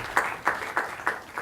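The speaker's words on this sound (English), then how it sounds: "I just want to give him a round of applause" A few slow, separate claps ring out in a talk setting, spaced roughly every third of a second, moderately loud and with no voices over them.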